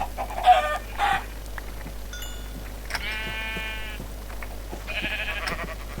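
Minecraft sheep and chickens in a video game, with a few short bleats and clucks scattered across the clip over a low steady background hum, with no talking.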